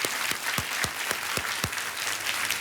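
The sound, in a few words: audience applause on a game show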